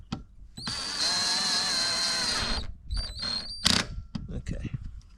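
A power drill drives the torque screw into the door mirror motor of a 2013 Audi S4 B8.5, a loud steady whine for about two seconds, then short bursts and clicks close up.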